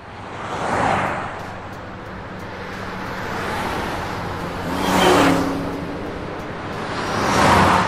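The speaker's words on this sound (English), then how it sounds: "Finnish stuntman Vesa Kivimäki is behind the Guinness Book speed record on a BMW, in an unusual way, on two side wheels" A BMW tilted up on two side wheels speeds along an airport runway at over 186 km/h, heard as a continuous rushing roar with heavy wind noise that swells and fades in several broad passes.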